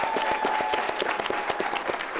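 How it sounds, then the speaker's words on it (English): An audience at a real estate show claps for the speakers on stage, a lively steady round of applause with distinct individual claps standing out, close and continuous throughout. "Please give them a huge round of applause."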